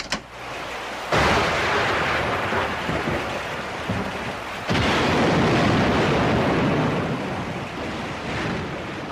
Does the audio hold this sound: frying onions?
no